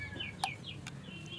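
Young chicks kept as backyard poultry chirp in a few short, high, thin peeps with sweeping tones, close by and fairly quiet over a low steady background.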